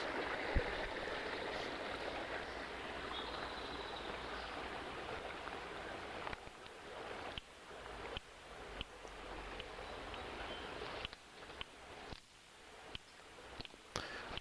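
A creek crossed by footbridges near an elementary school habitat planting area gives a soft, steady rush of flowing water. Halfway through, bumps and clicks break into it.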